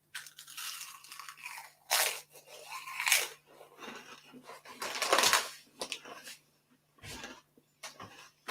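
Someone eats crisps up close at a craft beer gathering at a pub, with loud, irregular crunches and chewing bursts separated by short pauses.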